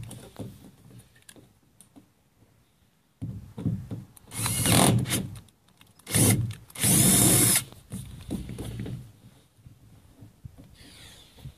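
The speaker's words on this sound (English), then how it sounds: "go about 1/8 of an inch past it, and drill a hole" A power drill whirs in several bursts as it bores into a plastic RV waste-water holding tank, the loudest stretches grinding and rasping, with quieter handling noise between.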